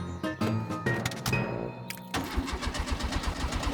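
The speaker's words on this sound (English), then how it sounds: "The car won't start." Cartoon car engine failing to start because the petrol tank is empty, a series of sputtering cranks and clunks followed by a rapid rhythmic chugging that fails to catch, heard fairly close with no talking.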